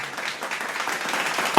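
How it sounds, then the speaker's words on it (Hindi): Applause at a church meeting held over Zoom, a brief burst of clapping rising sharply at the very end after a soft stretch of low murmur. "ताली के साथ।"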